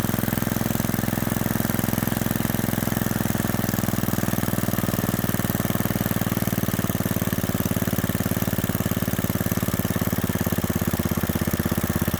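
A rebuilt Kohler K91 small engine with a fairly big 18 carburetor idles steadily, close up. Its continuous mid-pitched chugging hum holds an even, unbroken rhythm for the whole stretch, with no voices.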